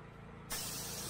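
A pressure-washer spray rinsing during a house wash bursts on abruptly halfway through as a loud, steady hiss, with a low mechanical hum beneath.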